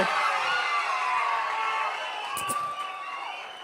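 A packed hall of supporters applauds and cheers a Madurai music troupe at a political rally, a dense roar of clapping and crowd noise with voices mixed through it.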